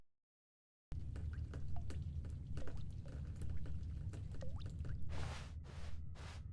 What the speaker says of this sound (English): What's that dripping sound?